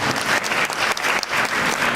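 Room full of people at a Black History Month celebration in Queens giving sustained applause, a thick wash of clapping, fairly loud and even throughout with no voices standing out.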